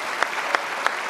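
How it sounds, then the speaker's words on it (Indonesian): A studio audience applauds steadily on a television talk show, dense clapping filling the short stretch at even loudness with a few sharper claps standing out. "kita kasih tepuk tangan dong untuk Kinal."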